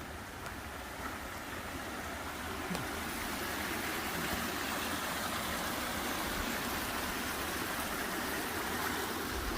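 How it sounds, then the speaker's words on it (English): A big creek rushes past beside a narrow tunnel, a steady broadband wash of flowing water holding constant throughout at moderate distance, with no voices. "Look how big the creek is."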